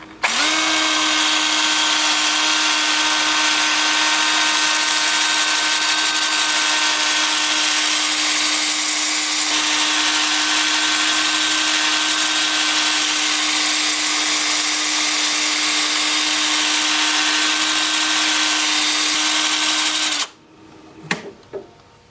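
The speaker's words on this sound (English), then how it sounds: "then I'll switch to the 2-inch sanding disc, lathe spinning in reverse at about 350" A 2-inch sanding disc on a wood lathe spinning in reverse at about 350 rpm whines steadily at a constant pitch for about twenty seconds, then winds down and stops, leaving a few faint knocks.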